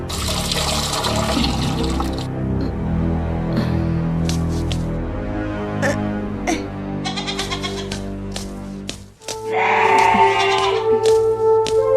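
Goats kept for milking bleat repeatedly and loudly, with overlapping calls near and far, set against running water and a rushing flush-like burst toward the end.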